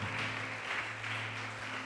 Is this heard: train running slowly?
no